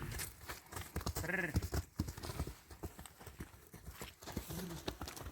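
Work horses' hooves clip-clop in a steady walking rhythm, with a brief animal bleat or whinny partway through and some outdoor background noise.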